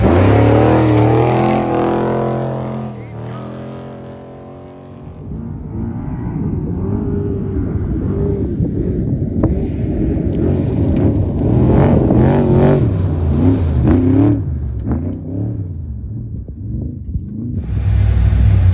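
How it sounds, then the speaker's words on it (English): A carbon fiber unlimited off-road race truck at a desert race start, its engine rumbling deep and loud, then building through long rising revs and accelerating roars that fill the whole stretch with no talk. "Beautiful carbon fiber unlimited truck, ready to go."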